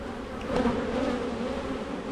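Honey bees drone steadily around an open Langstroth hive during an inspection, a dense, continuous close buzzing with no gaps.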